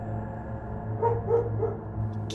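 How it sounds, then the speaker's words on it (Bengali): Several dogs bark at night in a cartoon ghost story, a few short muffled barks sounding faint and distant over a steady low hum. "কি ব্যাপার, কুকুরগুলো এত ডাকছে কেন?"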